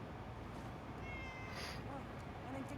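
A cat meows in Fallout 4's Far Harbor, a short faint call under steady game noise and background sound, with someone talking nearby.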